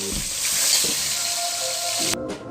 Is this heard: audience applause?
no